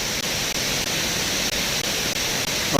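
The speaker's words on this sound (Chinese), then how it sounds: "来到了森林游乐区的上层瀑布" Upper waterfall in the forest recreation area of Neidong Forest National Park, a steady, dense rush of falling water that fills the whole clip at close range, loud and unbroken apart from a few faint dips.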